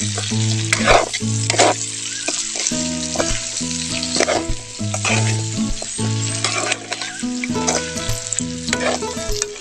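Meat sizzles and spatters loudly in a hot frying pan, a close and continuous crackle with occasional stirring, backed by a faint steady hum.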